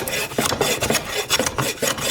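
An old block plane rasps across a wood board, taking shavings crosswise in a quick series of rough, scraping strokes at close range, with no voices.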